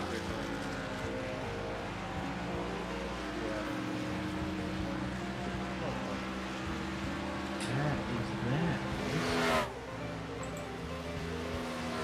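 In a racing game, a car drifts sideways through a turn with its tires burning. A steady engine drone and a dense whine carry throughout, swelling near the end with a brief sharper burst.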